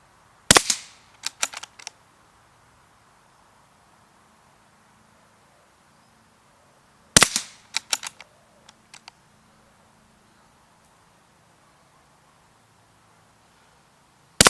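A Hatsan Escort .22 LR rifle firing SK Standard Plus rimfire ammunition gives three sharp, loud shots spaced several seconds apart. The first two are each followed by a quick series of mechanical clicks, with quiet between.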